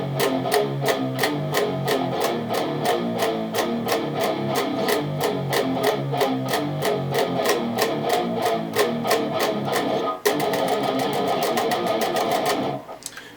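Palm-muted electric guitar power chords chug in a fast, steady rhythm, close and loud, before a brief stop and a flurry of quicker picking at the end.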